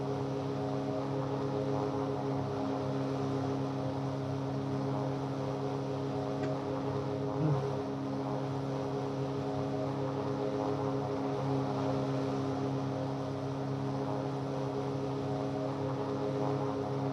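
Propeller airplane drone from a flight simulator game, the Drifter model in flight, a steady humming engine tone that holds evenly throughout with no talk over it.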